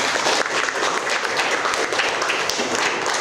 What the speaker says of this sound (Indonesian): Beri aplaus untuk Doni ya.